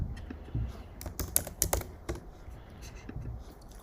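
Rapid typing on a computer keyboard during coding work, irregular bursts of clacking keystrokes with a few sharper louder hits, close and clear with no talk.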